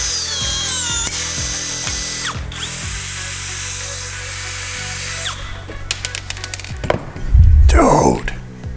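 A ONEVAN cordless brushless blind rivet gun sets a rivet, with a loud motor whir and a series of short ratcheting pulls followed by a sharp snap, then a brief burst of handling noise near the end.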